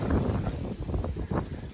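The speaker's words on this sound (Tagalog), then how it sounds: "Yan, mahangin na." Gusty wind blows outdoors near a red RAV4, buffeting the microphone in a steady, rough rush for a moment.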